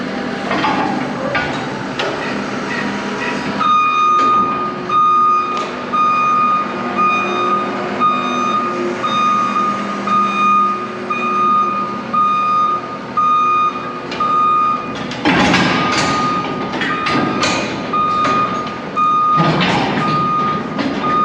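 A truck's reversing alarm beeps in a steady repeating rhythm, loud and close, with clanks and bangs of metal work around it.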